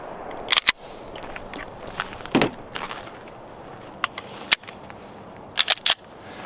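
A pistol fitted with a compensator and fired one-handed gives several sharp, loud, close cracks, some single and some in quick pairs, spaced by quiet gaps.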